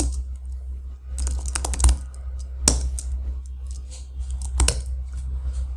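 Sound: typing on a computer keyboard

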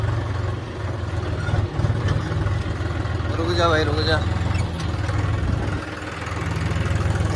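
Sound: John Deere 5050 D tractor engine idling with new silencer

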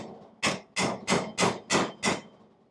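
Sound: punch hammered against a rivet

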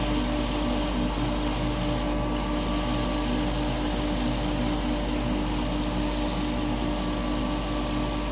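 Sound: sanding a wooden turned hat on a lathe

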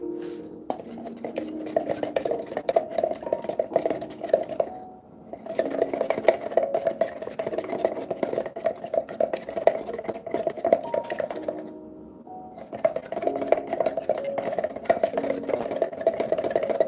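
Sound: stirring dark screen paint mix with a stirrer

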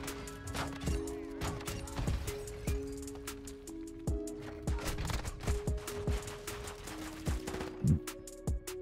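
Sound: automatic shotgun firing in Call of Duty MW2 video game

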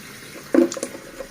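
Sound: washing face with tap water

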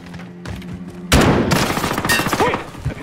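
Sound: Dragon's Breath VLK shotgun firing in video game Call of Duty Cold War

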